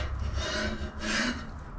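A threaded rod for a 7.25-inch gauge steam locomotive's brake gear is cut at a marked spot, a loud, close, steady rasping saw stroke with a brief dip midway, without speech.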